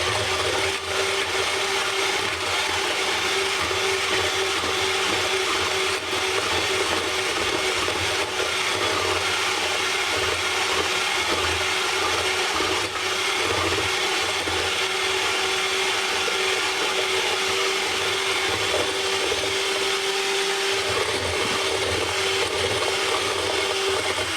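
Electric mixer whirring steadily as it beats vanilla cupcake batter with sugar added, a loud continuous motor drone with a constant tone that holds for the whole stretch, no voices.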